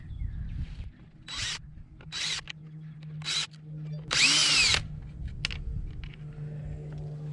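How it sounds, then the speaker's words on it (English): A power drill whirs in several short bursts, with one longer, louder run in the middle, over a steady low hum, while installing fog lights on a 2021+ Ford Raptor. "Let's switch over to a power drill."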